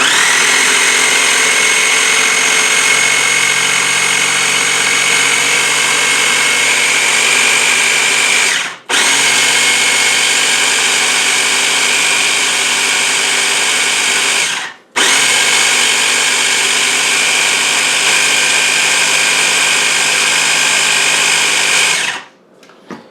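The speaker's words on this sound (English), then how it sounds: "And then give this a really good, like 2 or 3 minute spin." A Hamilton Beach Stack n Press food processor blending chickpea hummus, a loud steady motor whir running continuously with two brief stops before cutting off, close up and with no talking.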